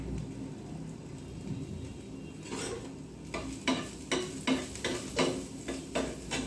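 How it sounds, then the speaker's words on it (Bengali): Grated ginger and garlic dropped into a little hot oil in a pan, giving a steady sizzle with a series of light, rhythmic stirring clicks near the end; no talking. "এখন আমি দিয়ে দিচ্ছি আদা আর রসুন গ্রেট করে রেখেছিলাম সেটা।"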